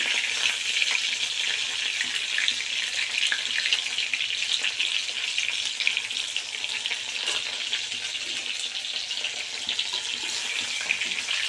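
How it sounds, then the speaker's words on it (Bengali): Chicken pieces fry lightly in oil for chilli chicken, giving a continuous bright crackling sizzle at steady volume with faint stirring underneath and no talking. "হালকা হালকা করে ভাজবো"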